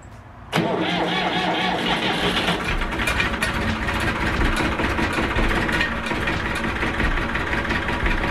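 A car engine cranks and catches about half a second in, then settles into a steady, close idle that runs alone for several seconds.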